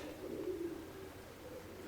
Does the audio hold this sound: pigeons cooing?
yes